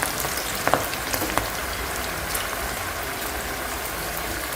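Raw jackfruit slices deep-frying in hot oil for crunchy chips, a steady loud sizzle and bubbling hiss throughout with a few sharp crackles near the start, no voices.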